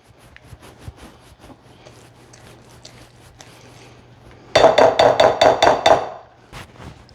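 Spice cake mix stirred in a bowl, a run of quick, loud scraping knocks from about the middle to the end, following quieter soft rustling and handling sounds.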